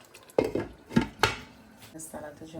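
A utensil scrapes and knocks against a cooking pot while potatoes are stirred in, several sharp metallic clacks at an uneven pace, close and fairly loud.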